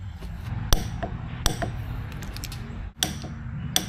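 A torque wrench tightening the bearing cap and ring gear bolts on a Toyota 8-inch axle, giving a few sharp, isolated metallic clicks spaced apart over quiet workshop background.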